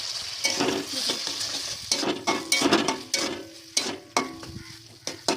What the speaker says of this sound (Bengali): আমার মামা মশলা দিচ্ছে কাঁচা লঙ্কা রসুন আদা বাটা